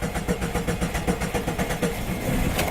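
A car engine cranks and sputters in a rhythmic pulsing chug, close and loud, catching briefly before running rough, without anyone talking.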